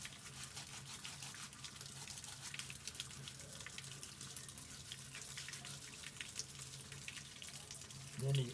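Water runs steadily over hands as they squeeze fresh jackfruit leaves to clean off sticky sap, a continuous soft splashing stream that stays fairly even throughout, with a brief louder bump near the end.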